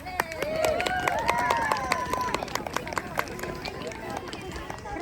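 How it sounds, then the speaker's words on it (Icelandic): Outdoor crowd at a Christmas tree lighting at Stakkó clapping for Kristján Leó, crisp scattered hand claps mixed with lively voices and chatter throughout. "Gefum Kristján Leó annað klapp."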